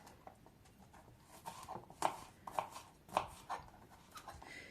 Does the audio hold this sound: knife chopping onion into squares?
yes